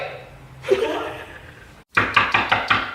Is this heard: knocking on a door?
yes